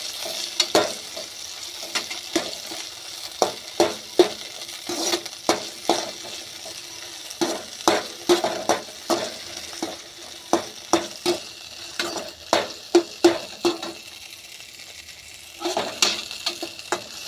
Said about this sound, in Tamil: சும்மா கொஞ்ச நேரம் அப்படியே எண்ணெயில் பொரிஞ்சால் போதும்